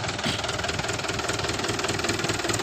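A 2017 Mahindra 575 DI tractor engine runs steadily close by, a loud continuous diesel chug with a fast even knock under constant vibration, no voices.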